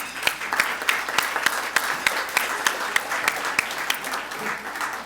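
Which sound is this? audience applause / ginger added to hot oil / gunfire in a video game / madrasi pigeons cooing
audience applause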